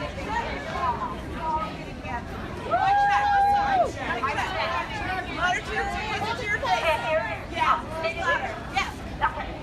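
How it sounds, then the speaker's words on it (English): A large crowd of protesters fills an airport international arrivals hall with dense, continuous chatter and overlapping voices, a steady indoor hubbub with occasional louder calls rising above it. "Yeah, it's a big crowd."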